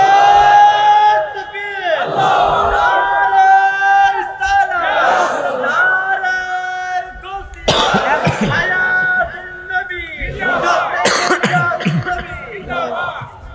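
A large crowd at a religious sermon roars back a takbir response, loud sustained massed shouting in several waves, with a voice amplified over a PA leading and calling out between them.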